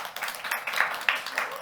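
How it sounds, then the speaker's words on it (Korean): A church congregation claps for the children, a short burst of scattered applause that holds at moderate loudness throughout. "우리 아이들 한번 박수 한번 쳐주십시오"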